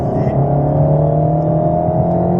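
Car accelerating out of a corner on the Dreux circuit, its engine note rising steadily and loud throughout with a continuous strong drone, close to the microphone inside the cabin.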